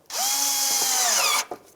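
A power drill spins up and drives Phillips screws into the inner fender liner of a 2002-2006 Nissan Altima. One steady, close whirring run lasts over a second, then there is a brief second burst.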